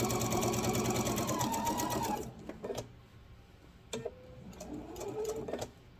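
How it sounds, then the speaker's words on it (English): A sewing machine stitches a fabric grocery bag in a loud, fast whirring run for about two seconds, then stops, followed by a few clicks and a short, quieter burst of stitching. "we're going to sew until we get to that first pin"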